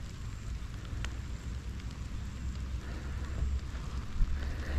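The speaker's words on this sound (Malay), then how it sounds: "Hari ni pun hujan, rintik-rintik." Light drizzle falling steadily outdoors beside a river in Perak during a solo fishing trip, a soft continuous patter with no talk.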